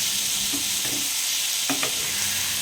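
Cumin, fennel and cinnamon being dry-roasted and stirred in a pan, a steady close sizzling hiss broken by a few brief scraping strokes of the spoon, with no talking.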